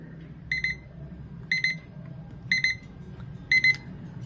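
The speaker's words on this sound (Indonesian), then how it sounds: "Iya, nah, ini pas alarmnya bunyi ya." A digital 3D wall clock alarm rings in four short bursts of quick electronic beeps, one per second, fairly quiet over a low background hum.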